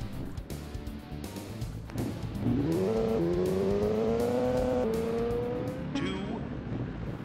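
Motorcycle racing in a PC video game running at a low frame rate, with a rising and falling synthesized engine whine that climbs in pitch, then cuts off, over a faint background rumble.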